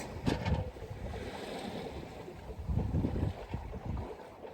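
A small sailing boat rides up and down over waves at sea, giving a rushing wash of water and wind with swells of louder splashing, close to the microphone, and no talking.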